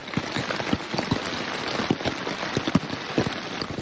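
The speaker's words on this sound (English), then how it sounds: "And then late that night, the rain came." Night rain falling on a camp in the Adirondack High Peaks wilderness, a dense patter of close drops tapping on surfaces, steady and moderately loud with no voices.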